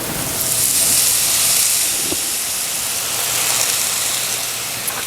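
Spinach sautéing in butter in a hot pan gives a steady, close sizzling hiss that holds evenly, with a faint clink near the middle.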